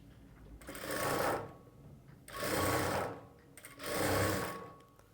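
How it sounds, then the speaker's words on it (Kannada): A sewing machine stitches a blouse seam, running over an earlier line of stitching in three even bursts of close, steady whirring, with short quiet pauses between them. "ಆ ಹೊಲಿಗೆ ಮೇಲೇ ನಾವು ಇನ್ನೊಂದು ಹೊಲಿಗೆನ ಹಾಕ್ಕೊಂಡ್ರೆ ಆಯಿತು"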